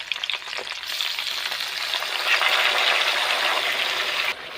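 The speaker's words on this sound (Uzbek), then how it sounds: "Mana qaynashni boshladi." A cauliflower dish cooking in a pot on a gas stove gives a steady, close sizzling and bubbling hiss as it comes to the boil, swelling slightly and then cutting off near the end, with no voices.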